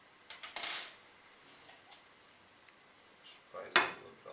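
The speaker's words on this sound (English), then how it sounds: "you place your plate on the frying pan, and with a fork you just lower it" A fork and plate clink against a frying pan during omelette making, two short bright metallic scrapes and taps separated by quiet, recorded close in a kitchen.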